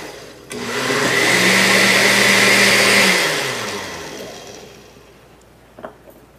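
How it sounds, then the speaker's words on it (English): A blender whirs through a kefir drink, starting abruptly, holding a loud steady motor whine for a few seconds, then winding down, followed by a faint knock. "So I'm just going to pour this in the blender."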